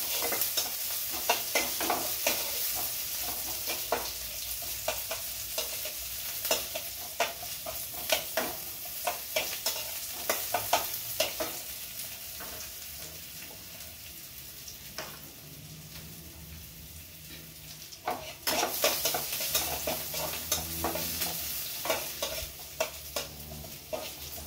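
Onions sizzle in a pan before lentils go in, a steady crackle broken by frequent scraping stirs of a utensil, close and alone without talk.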